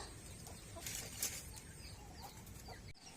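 Five newly bought black backyard chickens cluck softly and intermittently in a steady outdoor murmur, a few brief louder squawks rising over continuous low background noise.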